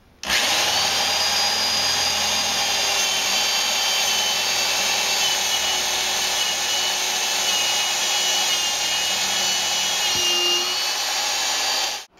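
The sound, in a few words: drilling a hole with a 7/32 drill bit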